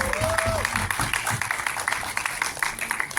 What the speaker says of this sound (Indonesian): Boleh tepuk tangan sekali lagi teman-teman